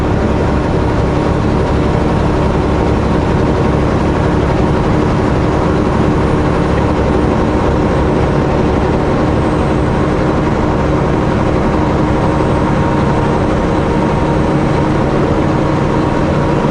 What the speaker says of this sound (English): Single engine, 6-axle engine, 8700 Canadian Pacific